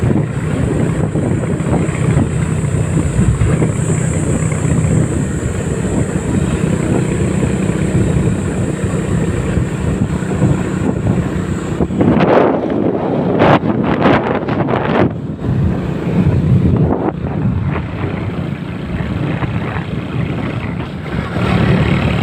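Steady low boat motor drone with heavy wind buffeting the microphone, continuous and loud throughout, with a few sharp knocks and splashes toward the end.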